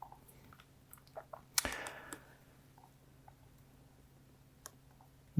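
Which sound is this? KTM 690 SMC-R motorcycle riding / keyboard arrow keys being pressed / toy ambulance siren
keyboard arrow keys being pressed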